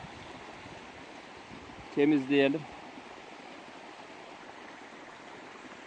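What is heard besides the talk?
stream flowing beside the walnut tree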